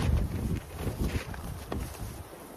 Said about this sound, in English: the clouds came in and then the wind came in